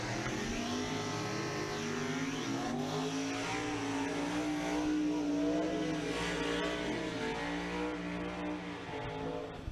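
A Corvette race car's engine roars at sustained full throttle, a loud, steady high-revving drone with shifting harmonics that holds for the whole stretch without letting up.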